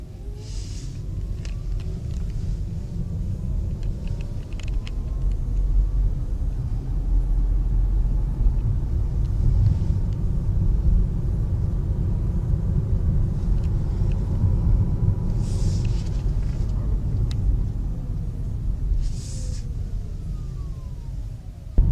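A Honda Clarity plug-in hybrid car rolls along with a steady low cabin rumble of road and tire noise, quiet and even throughout, with a few faint higher tones drifting in and no speech.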